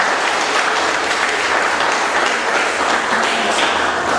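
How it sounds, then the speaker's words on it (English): Sustained audience applause at an emancipation celebration, a dense, even wash of many hands clapping that stays loud and steady throughout without letting up. "Would you please just give them a round of applause?"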